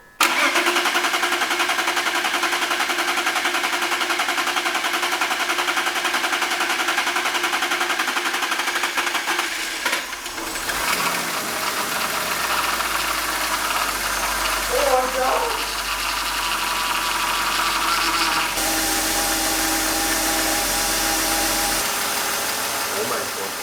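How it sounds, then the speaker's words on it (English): A rebuilt BMW engine cranks and catches, then idles with a steady rumbling drone over a long stretch, with some voices faintly in the background. "I really hope this car starts now"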